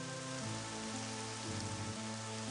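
Rain falls steadily in the video game Dhux's Scar, a soft even hiss of drops on surfaces, faint and unbroken, with low sustained tones humming beneath and no talk.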